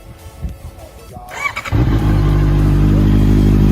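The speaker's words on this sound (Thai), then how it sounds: "ฟังเสียงเครื่องยนต์นะครับ" A 2018 Honda CBR650F sport motorcycle engine starts after some faint background noise and settles into a loud, steady running idle with a throaty hum.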